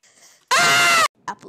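A single loud, sustained human scream lasting about half a second, sharp and close, bracketed by faint vocal murmurs before and after.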